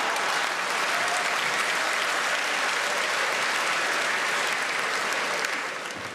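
Audience applause at a stand-up comedy show, dense sustained clapping from a large crowd heard alone, steady for several seconds before tapering slightly at the end.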